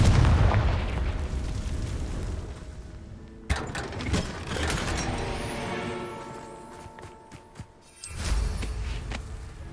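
Confringo fire spell blasts in the game Hogwarts Legacy, booming explosive bursts with rumbling tails, one heavy blast near the start and another around the end, loud and close.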